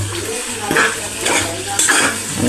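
A spoon scraping and clanking around a metal cooking pot as food is stirred, close and fairly loud, with a few sharp metallic taps over a low steady hum.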